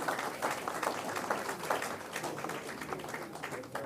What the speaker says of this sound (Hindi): जोरदार तालियों से सर की पुस्तक का विमोचन करते हुए